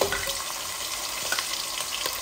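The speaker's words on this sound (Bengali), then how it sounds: "আমি এখন দিয়ে দিচ্ছি একটা অনিয়ন" Onion dropped into a hot pan and frying, a steady broadband sizzle with faint scraping, close and continuous for a couple of seconds, no voices, for a Bangladeshi chicken bhuna dish.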